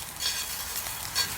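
Butter sizzles with a little oil in a Lodge 12-inch cast iron skillet, giving a close, steady soft crackle and hiss that swells briefly a couple of times.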